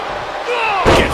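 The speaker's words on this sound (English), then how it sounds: "Gets slammed down." During a live WWE Monday Night RAW match, a wrestler is slammed down onto the ring mat, landing as one sharp, heavy thud over steady arena noise.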